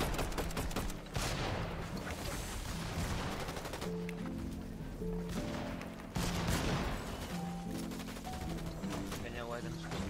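Rapid gunfire bursts in the Fortnite FNCS competition, dense volleys of shots crackling over game music and ambience, fairly loud and continuous with several distinct flurries.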